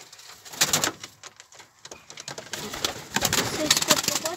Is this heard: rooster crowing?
no